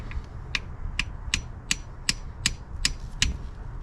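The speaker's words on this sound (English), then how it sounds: "hit it with a hammer" A hammer strikes metal while spark plugs are being changed on a car, nine sharp, evenly spaced blows, close and clear over a low background rumble.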